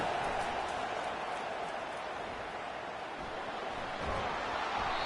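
Stadium crowd at a Clemson vs Stanford college football game, a dense, loud, steady roar that holds for the whole stretch without letting up.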